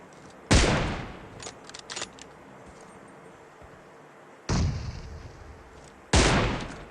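Gunfire in the mobile shooter PUBG Mobile cracks out in three loud, sharp single shots spaced several seconds apart, each with a short decaying tail, fainter clicks between them.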